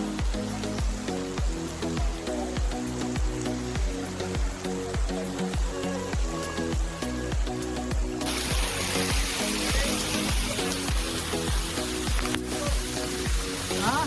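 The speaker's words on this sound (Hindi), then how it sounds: "और भाई ये वाटरफॉल कुछ मुझे बाहुबली के सीन की फीलिंग दे रहा था" Patna waterfall near Rishikesh gives a steady, dense rush of falling water that swells loud and close in the second half, with rhythmic background music running throughout.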